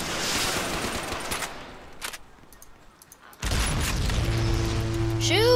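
Battleship guns fire in a naval battle video game, with several loud booming salvos and a rapid burst of explosive shots, partly under faint background noise.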